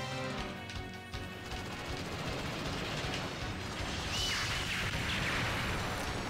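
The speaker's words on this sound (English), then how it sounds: "Gatling gun." A Gatling gun firing in the Dreamcast game Dolphin Blue during two-player play, a sustained, dense rattle of rapid shots that swells louder toward the end amid noisy game effects.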